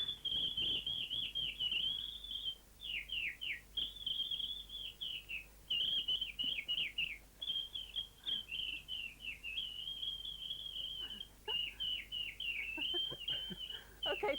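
A man whistles an imitation of a skylark's song: rapid, continuous high warbling trills broken by brief pauses, fairly quiet and with no talk.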